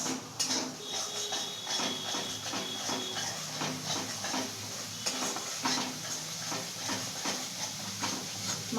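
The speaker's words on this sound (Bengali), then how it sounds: "দেখুন ভালো করে সব কষানো হচ্ছে চারপাশ থেকে তেলও রিলিজ করছে" Soybean curry masala sautéed in oil in a pan, a steady frying sizzle with frequent light clinks and scrapes of a spatula against the pan, close and soft, with no voices.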